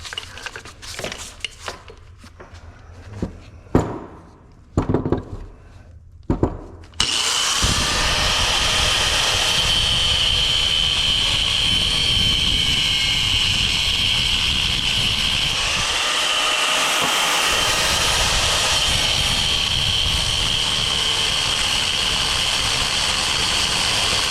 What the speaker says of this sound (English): use the cutting grinder first.